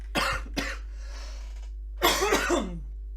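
Two sharp coughs close together, then a pause with faint background hiss and a louder, rougher coughing fit with throat clearing, all close and unaccompanied.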